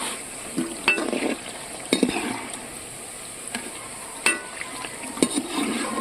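Soybean kebabs frying in a pan, a steady low sizzle broken by periodic scraping and clinks of a spatula against the pan.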